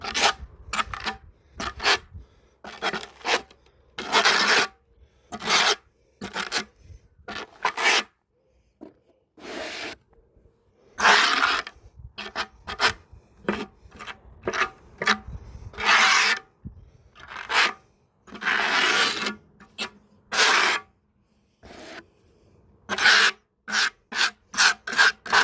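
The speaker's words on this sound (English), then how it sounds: "use the flat part of your trowel, basically like you're buttering a piece of bread" A trowel spreads tile adhesive across a patio tile, buttering it like bread: repeated short rasping scrapes in bursts with brief pauses, close and fairly loud, no talk.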